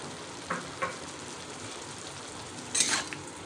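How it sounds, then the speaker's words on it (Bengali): Chicken pieces fry in a pan with chilli powder, salt and turmeric, giving a soft, steady sizzle with a few brief clinks of a utensil against the pan. "ভাজা ভাজা করব।"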